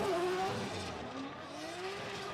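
A drift car, car number 171 driven by Eijo Noguchi for Harukaze Racing, slides through a corner during qualifying at Ebisu Circuit West Course in Fukushima, its engine revving hard under a sustained tire squeal.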